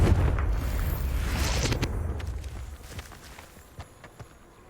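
A Confringo blasting spell explodes in Hogwarts Legacy, a heavy rumbling boom at the start that slowly decays, followed by a few scattered faint thuds and crackles.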